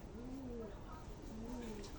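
Rajshahi giribaz pigeons, a feather-footed breed, give two soft, drawn-out coos about a second apart, faint against a steady low background hum.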